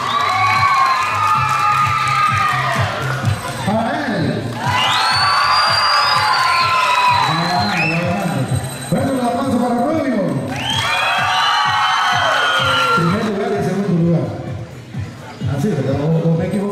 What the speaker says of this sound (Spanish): Fuerte los aplausos para él.